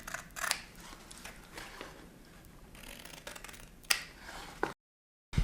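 Scissors cutting out paper for a bookbinding project, several short crisp snips and rustles at close range, with sharper cuts near the end and a brief silent gap.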